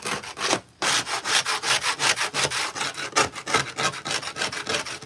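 A hand scraper strips loose paint from a door in steady rhythmic rasping strokes, close and loud, about four to five scrapes per second with a brief pause near the start.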